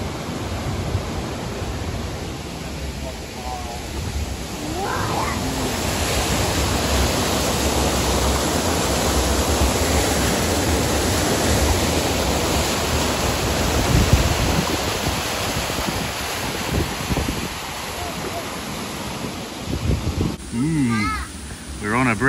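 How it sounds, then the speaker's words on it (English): A big waterfall in the Lake District, heard from a bridge, roars in a loud, continuous wash of rushing water, while voices talk faintly beneath the noise. "I can hear a waterfall, a big waterfall."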